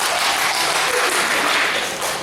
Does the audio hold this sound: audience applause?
yes